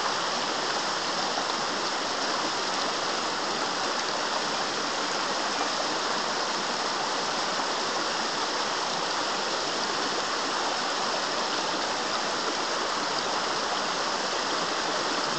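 Rushing water of the Pirita river rapids, a steady broadband roar of turbulent flow close by, unbroken and even in loudness from start to finish, with no voices.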